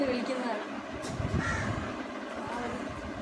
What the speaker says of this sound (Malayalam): കാക്ക അതിൽ നിന്ന് കഴിക്കാൻ വേണ്ടി വന്നു വിളിക്കുന്നതാണ്.